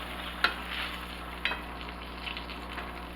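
Sliced mushrooms and onions fry in oil in a pan for Salisbury steak, a soft steady sizzle with two brief scraping stirs, fairly quiet and close, without speech.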